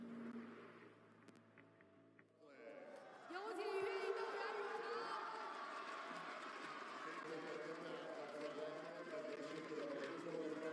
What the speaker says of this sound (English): But the crowd go wild.